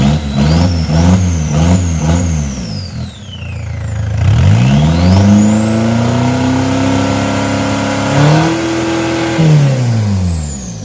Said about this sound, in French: Le moteur s'est emballé